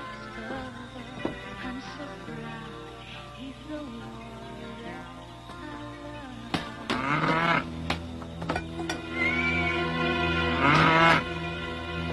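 A carabao, or water buffalo, moos in a rural Philippine setting. The first calls are low and faint over background sound, and a louder drawn-out bellow comes near the end with a few sharp knocks between the calls.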